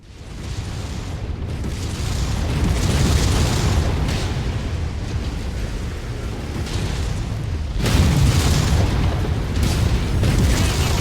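A mining platform is blown apart in the video game MechWarrior 5, with sustained, loud booming explosions and rumbling debris. A second powerful burst of blasts rises partway through.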